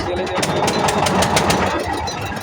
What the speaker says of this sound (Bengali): ও 2 বার স্টার্ট দিছে হয়ে গেছে, কিন্তু আরো 3 বার স্টার্ট দিছে, একবারও হয় নাই।